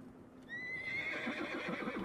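A horse in the animated film The Road to El Dorado lets out a rising, bright whinny that trails into a shaky, rhythmic nicker, close and fairly loud, with no talk over it.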